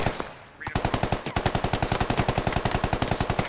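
Automatic rifle fire in the military shooter Squad: a single shot, then after a brief pause a long rapid burst of evenly spaced, loud, close shots in a steady rhythm.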